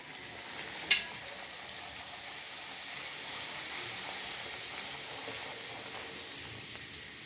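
Luchi, a puffed flour bread, fries in hot oil with a steady, close sizzling hiss that runs throughout, marked by one sharp crackle or clack near the start and otherwise no talk.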